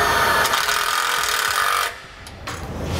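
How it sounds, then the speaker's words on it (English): A power tool drives a self-tapping screw while a hydraulic brake line is fitted to a single torsion trailer axle. A steady close whir runs for about two seconds, then drops off abruptly and trails into a quieter, duller hum. "So we'll use a self-tapping screw and get that secured."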